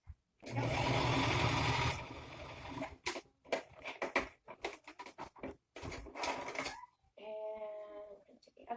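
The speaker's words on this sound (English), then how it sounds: "you're going to sew all the way straight down on either side here" A sewing machine stitching a fabric face mask runs in a short loud burst, followed by quieter handling noises and a person talking.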